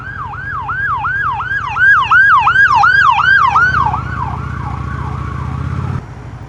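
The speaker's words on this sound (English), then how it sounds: "here comes the ambulance" An ambulance siren wails loudly in rapid repeating sweeps, close by, then fades as it moves off, with an engine rumbling underneath.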